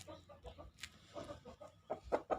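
A chicken suffering from a cold, with snoring, mucus-clogged breathing, clucks several times in a short, uneven series of close, moderately loud calls, with no one talking.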